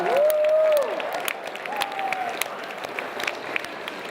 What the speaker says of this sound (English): We're all going to face the camera and give a big round of applause